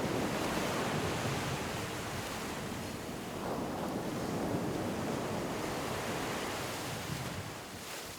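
Ocean waves at Shell Beach produce a constant broad roar of surf mixed with gusting wind across the microphone.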